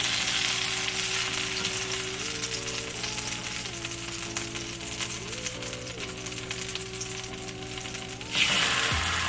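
Tortillas for low-carb enchiladas fry in a pan with a continuous even sizzle over a faint tonal background hum, swelling briefly louder near the end.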